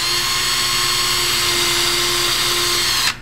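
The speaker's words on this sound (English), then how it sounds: "So taking my drill, holding it upright, place it on the hole" A power drill whines steadily at high speed for about three seconds, then cuts off abruptly near the end.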